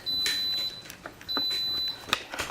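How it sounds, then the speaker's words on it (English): An Instant Pot pressure cooker's timer sounds in a kitchen while cooking chicken and dumplings, giving two sustained electronic tones followed by a short burst of rapid beeps, faint and not far from the microphone, with no talking. "the timer has gone off"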